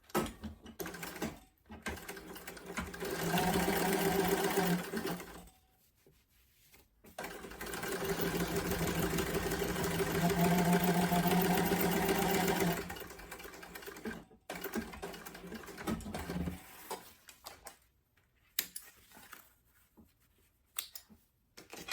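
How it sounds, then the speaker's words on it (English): A sewing machine joins sling bag pieces in two sustained runs of steady stitching, with quiet gaps and small handling clicks between and after, no voices. "then we're going to sew that together using the seam allowance given in the pattern"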